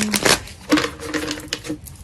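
Quick bursts of crisp, papery riffling and flicking as tarot cards are shuffled, a few separate shuffles close up with brief pauses between them.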